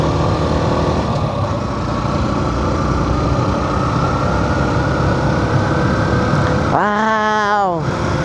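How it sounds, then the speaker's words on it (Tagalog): A motorcycle engine labours uphill on a steep mountain road, a steady loud drone running throughout, briefly joined near the end by a voice. "Natong motor oh naglugos oh."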